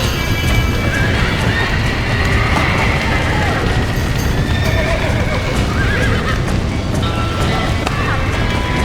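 Horses whinny and neigh over a busy backdrop of hooves clip-clopping, with a steady wash of noise throughout, in Red Dead Redemption.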